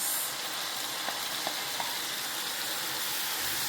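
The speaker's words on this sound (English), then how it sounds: "stir and allow it to fry a bit" Crayfish and pepper mix fry in oil for okra soup, giving a steady, moderate sizzle with a few faint knocks of a stirring spoon against the pot.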